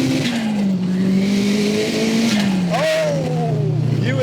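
Turbocharged Lotus Elise with a 1.8 litre engine cornering on the road, a steady engine drone with rising and falling pitch and possible tire noise, continuous and close, with talk over it.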